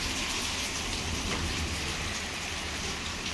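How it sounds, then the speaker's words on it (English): Heavy rain from Hurricane Hilary falls outside an apartment patio, a dense, steady hiss of drops on surfaces, loud and continuous with no voices. "it's raining"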